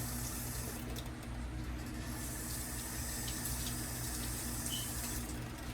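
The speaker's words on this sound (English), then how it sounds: "I keep dishwater, and I can run my hands in it." Hands stir and move through a sink of dishwater mixed with Clorox bleach, giving a steady, close, soft sloshing and watery wash with no talk over it.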